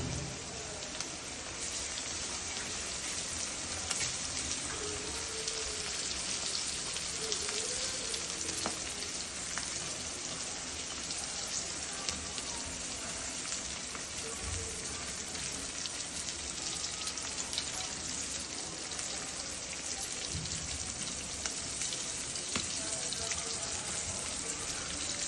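Pomfret fish fries in oil in a pan over low gas, giving a continuous, even crackling sizzle like light rain. It stays close and steady throughout, with faint clicks and small pops.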